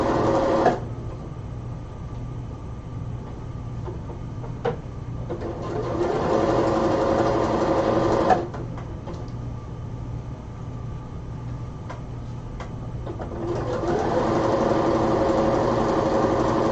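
A sewing machine runs close by in long steady stretches of whirring stitching on cosplay seams, stopping briefly between runs, alone without voices.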